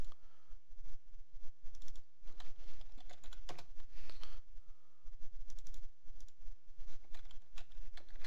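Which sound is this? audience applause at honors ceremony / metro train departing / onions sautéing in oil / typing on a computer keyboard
typing on a computer keyboard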